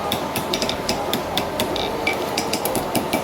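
Hammer strikes on a horseshoe canted on an anvil while a farrier reshapes a diamond calk hind shoe, sharp ringing metallic blows landing in a quick irregular series, close and fairly loud over steady shop noise.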